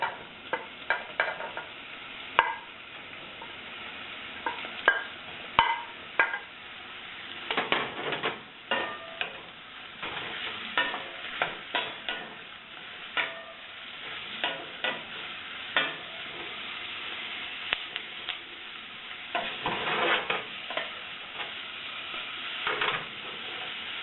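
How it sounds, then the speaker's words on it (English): Vegetables and chopped mushrooms sauteing in a pan, with close, frequent clacks and scrapes of a utensil stirring over a continuous sizzle, the stirring irregular but busy throughout. "while they're sauteing, I'm also going to throw in the chopped mushrooms"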